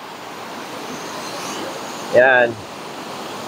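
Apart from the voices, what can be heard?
strong ocean waves at the beach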